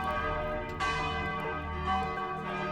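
A bell in a dungeon adventure game rings out in a sustained metallic tone, struck again about twice so that fresh bright peals layer over the lingering hum, clear and unaccompanied by speech.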